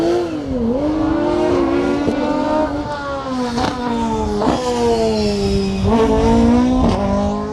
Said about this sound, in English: Craig Pennington, Wayne Priest dancing the Porsche, lighting up the back tyres.